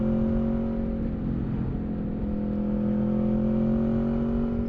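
An Aprilia Tuono 1100 Factory 2021 motorcycle engine in third gear in tour mode, rider rolling the throttle on and off; a steady droning engine tone with slight swells, close and constant under wind, no voices.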